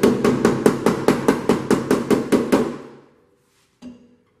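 A hammer taps rapidly about a dozen times on a metal car body panel in a steady rhythm, sharp metallic strikes close by, then stops; one lone tap follows after a pause.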